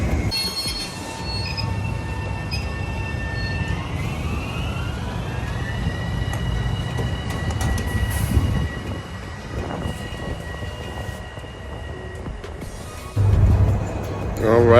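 Subway train pulling away from a station platform, wheels squealing on the rails with a rising then steady tone over continuous rumble, loud and close, with brief voices in the background.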